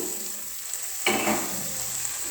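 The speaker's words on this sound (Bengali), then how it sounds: "দেখো এবারে পনিরগুলো দিচ্ছি। দেখো এতে পনিরগুলো দিলাম," Paneer cubes drop into a hot frying pan and are stirred, setting off a sudden sizzle after a quiet second that then settles into a steady frying hiss.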